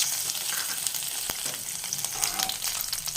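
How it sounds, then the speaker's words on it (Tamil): Ghee heating in a pan for moong dal payasam gives a steady close sizzle with faint stirring and a light clink. "ரெண்டு கப் நெய் ஆட் பண்ணிக்கிறேன்"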